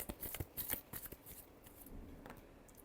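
Tarot cards are shuffled by hand in quick papery riffles and flicks, a rapid burst of crisp snaps that slows into softer sliding, close and quiet with no talk.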